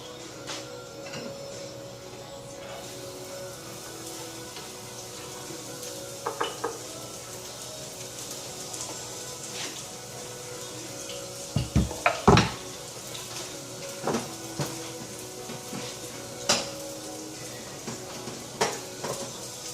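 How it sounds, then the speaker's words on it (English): Garlic sizzling in heated oil for a surf and turf dish, a soft, steady hiss running throughout with scattered clinks and knocks of a pan and utensils, no speech. "let me go ahead and add the garlic to the heated oil"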